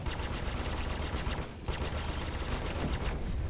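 Spaceship weapons fire in Star Citizen, a dense, rapid stream of repeating shots that continues almost without pause, dipping only briefly in the middle.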